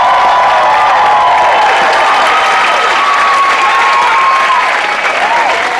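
Loud, sustained applause and cheering from a comedy show audience, a dense continuous roar of clapping with whoops running the full length without a break.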